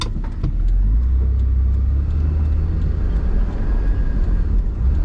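An 80 Series vehicle engine with a fault that makes it stall runs loud and close, a steady low rumble with slight rises in pitch as it is revved, and no talk over it.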